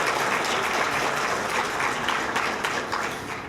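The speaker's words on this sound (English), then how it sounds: "Another round of applause." A convention masquerade audience gives a loud, sustained round of applause for costumed entrants, a thick wash of many hands clapping that tapers off slightly near the end.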